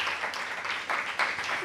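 An audience in a hall applauds in a brief, dense wash of clapping that stays at an even level and ends abruptly.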